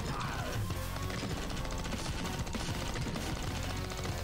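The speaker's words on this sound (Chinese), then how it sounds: "爆炸！" A continuous loud barrage of explosions and blasts from the shooter game Xeno Crisis, dense and unbroken throughout, layered with busy game noise.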